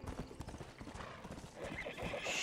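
Horse hooves clip-clop steadily in the Red Dead Redemption video game, with a horse neighing and whinnying toward the end, all fairly close and moderately loud.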